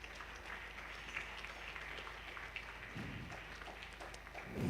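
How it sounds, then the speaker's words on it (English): Faint, distant applause from an audience welcoming the Permanent Secretary at a government engagement event, a low steady patter of clapping with a slight swell at the end. "Let's give him another round of applause."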